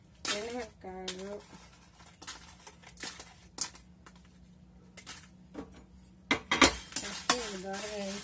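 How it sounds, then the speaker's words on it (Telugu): Chillies and spices dry roasting in a pan without oil, a utensil scraping and clinking against the metal in irregular stirring strokes, close by, with someone talking over it at intervals. "అన్నీ నూనె లేకుండానే వేయించుకోవాలి"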